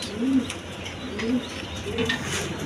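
A pair of big U-shaped Lahori pigeons cooing, with several soft low coos repeating close by over a light background hum, and no talk.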